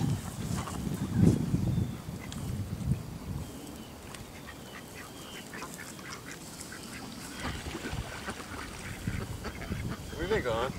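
Ducks quack outdoors while being tossed food, their calls mixed with nearby voices of adults and children talking over a steady background of outdoor noise.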